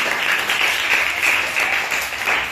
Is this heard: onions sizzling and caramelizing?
no